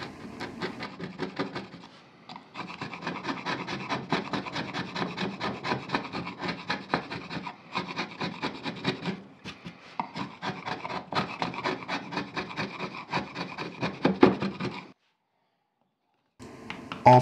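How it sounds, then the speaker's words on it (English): Hand gouge carving a low wood relief, with close, repeated scraping and rasping cuts in quick bursts, broken by short pauses and ending with a brief silence. "so I'm just using a bigger gouge at the end of the day"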